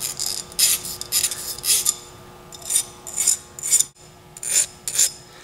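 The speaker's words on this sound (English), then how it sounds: "we're going to take our file and gently file it down a little bit to get rid of all our burrs" A hand file rasps burrs off a piston ring for a 5.7 HEMI engine in short, bright, evenly spaced strokes, about a dozen close scrapes with brief pauses, over a faint steady hum.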